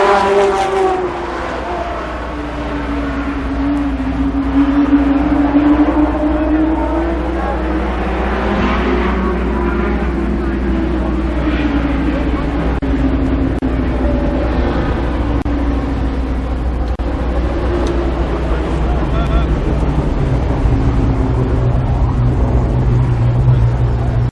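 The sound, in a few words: race cars at Columbus Motor Speedway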